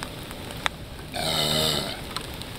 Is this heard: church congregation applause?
no